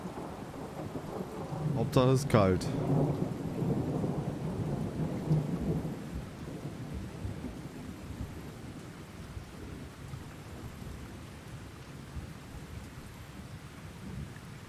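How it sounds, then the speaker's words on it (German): Thunder rumbles loudly through a rainstorm in the fishing game Russian Fishing 4, a sharp crack near the start rolling into steady rain hiss that fades over the rest, with a brief muttered voice. "Ja, also geht auch bei Gewitter, ne?"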